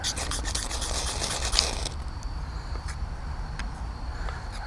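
A large ferro rod firesteel scraped with a stainless Mora knife, a harsh rasping strike in the first couple of seconds, then faint scattered crackles against a quiet background.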